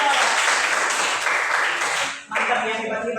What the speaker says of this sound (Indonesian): Tepuk tangan untuk kedua yang sudah menjawab.